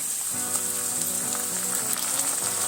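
Steady, loud sizzling from a pan of garlic, cumin and chilli paste, a continuous crackling hiss with faint scraping of stirring underneath.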